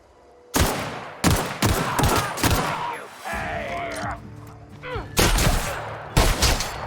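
Shotgun fire in the video game The Outer Worlds: several loud, booming blasts spaced about a second apart, with a short stretch of other game sounds between them and no talk.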